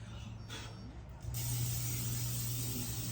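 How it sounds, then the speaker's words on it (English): A short hiss, then a longer steady spray from an aerosol can of nonstick cooking spray onto a cookie sheet, close by and continuous for a couple of seconds, with no one speaking. "cooking spray, nonstick cooking spray."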